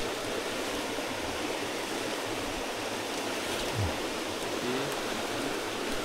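A river stream flows steadily on a jungle trek toward Gunung Tahan, a broad continuous wash of running water that stays even and close throughout with no talk.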